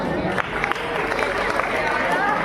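Dense, steady applause from a school crowd at a quiz competition in a higher secondary school in Chhindwara, a continuous wash of many hands with faint murmuring underneath.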